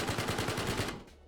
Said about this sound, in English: One being a 308 machine gun